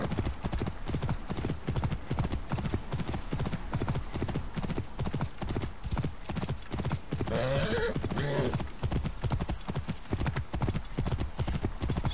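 Horse hooves gallop in a steady, rapid clip-clop rhythm in Assassin's Creed Origins, loud and close, with a brief whinny partway through over a constant low rumble.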